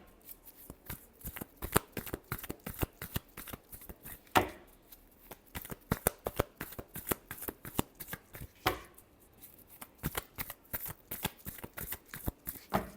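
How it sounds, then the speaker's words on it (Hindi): Tarot cards are shuffled up close in a steady run of crisp riffling snaps and flutters, repeating rhythmically for over ten seconds with brief pauses between bursts. "last shuffle"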